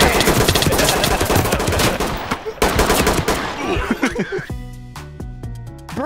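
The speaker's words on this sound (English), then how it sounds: "Why are you shooting us?" Rapid automatic gunfire and single shots from a tactical police shooter, dense and loud for several seconds, thinning into scattered bursts, with sharp tonal impacts near the end.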